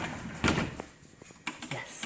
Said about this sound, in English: my door needs some WD-40 or something so it doesn't squeak